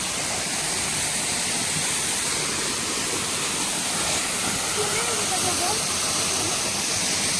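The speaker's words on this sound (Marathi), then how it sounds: "सुंदर असा धबधबा आहे" A roaring village waterfall heard close up, a constant dense rush of water with a voice talking faintly underneath.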